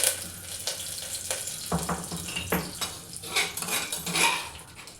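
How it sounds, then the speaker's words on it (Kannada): Curry leaves hit hot oil in a cooker and sizzle in a hissing burst, with metal clinks and scrapes of utensils against the pot. No one speaks. "ಎಣ್ಣೆ ಕಾದಾದ ನಂತರ ಇದಕ್ಕೆ ಕರಿಬೇವಿನ ಸೊಪ್ಪನ್ನ ಸೇರಿಸ್ಕೊತಾ ಇದ್ದೀನಿ"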